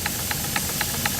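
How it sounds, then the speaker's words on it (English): A double-acting model steam engine hisses steadily, with soft regular puffs of exhaust about every quarter second, fairly close and alone with no voices. "This one has steam expanding on both sides."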